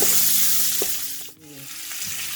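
Garlic and onion fry in a hot pan for a bam-i noodle dish, making a short, loud, continuous sizzle with a couple of soft stirring knocks and no talking.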